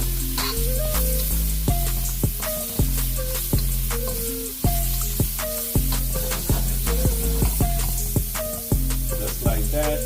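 Shrimp with ginger sizzle and fry steadily in a pan, a continuous loud crackle with intermittent clinks and scrapes as the food is stirred, no voices.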